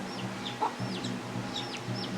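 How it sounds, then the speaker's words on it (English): Chickens cluck and chirp softly amid a low farmyard hum in the Longji rice terraces, China, with a few short calls scattered through. "there's so many chickens and they're so healthy"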